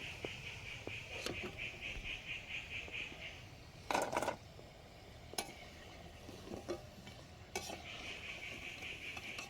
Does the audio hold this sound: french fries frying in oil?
yes